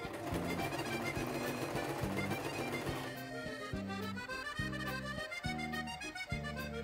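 Sewing machine stitching fabric onto a strap, a rapid rhythmic mechanical chatter running continuously, close and fairly quiet, the stitching pace steadying into distinct repeated pulses in the second half.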